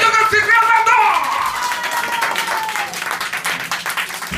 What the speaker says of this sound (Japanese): まずは一発目なんで、皆さん大きな拍手の準備よろしいですか。